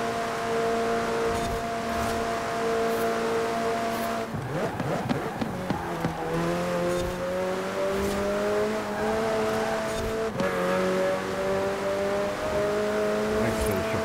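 A racing car's engine drones steadily at high revs in Forza Horizon 4 on a custom track, its pitch dropping at a gear shift then climbing again, loud and continuous for about fourteen seconds with no talking.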